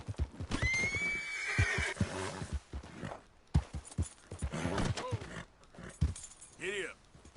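Horse whinnying and hooves clip-clopping in the open-world western video game Red Dead Redemption 2, a loud neigh early on, then rhythmic galloping hoofbeats with another whinny near the end, under scattered game sounds and talk.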